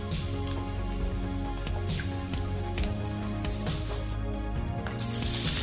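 Sausages frying in a hot wok sizzle and spatter steadily throughout, a dense crackling hiss over a low background hum.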